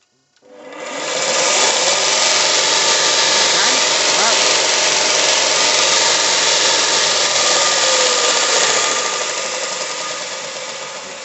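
A Parkside 2-in-1 bench grinder and belt sander is switched on and spins up within a second into a loud, steady, close motor whine with a rasping hum, holding for about ten seconds and easing off slightly at the end.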